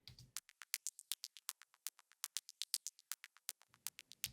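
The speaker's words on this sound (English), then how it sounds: "And then I have some high-end percussion on top." A rapid, steady stream of crisp high-end percussion clicks ticks along in a tight rhythm, quiet and dry, with a soft low thump at the start and end and no voices.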